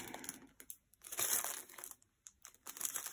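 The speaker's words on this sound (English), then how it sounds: "Oh no, crinkling, but there's nothing we can do about that." Plastic bags from diamond painting kits crinkling as they are opened and handled up close, in several bursts of crisp, rustling crackle separated by short quiet gaps.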